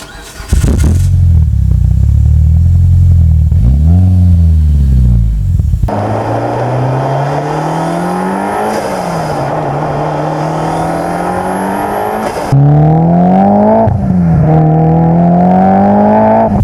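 A Mitsubishi Evo IX engine starts with a loud crank and catch, then idles roughly and revs up and down in several strong, rising and falling pulls, close and very loud.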